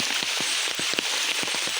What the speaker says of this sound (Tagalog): Naabutan ka na nga ng ulan.